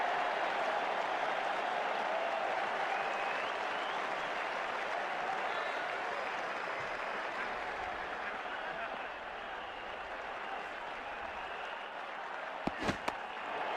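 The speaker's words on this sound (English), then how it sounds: "The crowd really enjoyed that one." A cricket crowd at an India versus Australia Test match cheers and applauds a six, a broad sustained roar of clapping that holds steady and slowly fades, with brief sharp knocks near the end.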